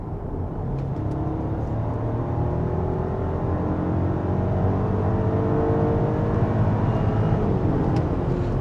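2026 Audi Q7 with a 3.0-litre V6 TFSI engine pulling hard under acceleration, a steady loud drone with rising engine tones throughout, no talking.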